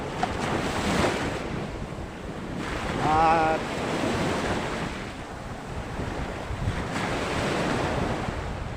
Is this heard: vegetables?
no